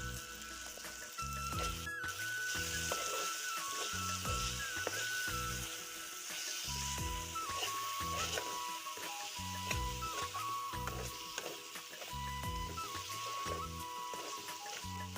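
Tomatoes with turmeric, cumin powder, red chili powder and salt fry gently in a pan with fish, giving a soft, continuous sizzle under a steady background hum, with occasional stirring and no speech.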